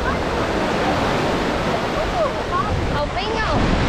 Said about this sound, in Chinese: 我们走到海边了，超级放松的海边。